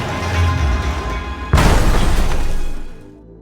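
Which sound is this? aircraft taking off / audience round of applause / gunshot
gunshot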